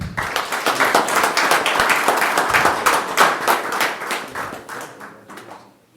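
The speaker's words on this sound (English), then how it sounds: "Please give him a round of applause." Audience at a county board meeting applauding, a steady dense patter of many hands that holds for several seconds, then thins and fades out.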